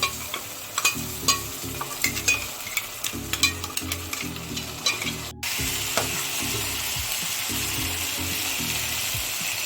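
Ginger garlic paste sizzling with fried onions in a pan, a steady frying hiss with rhythmic stirring scrapes and clatters early on, then a continuous, louder sizzle alone.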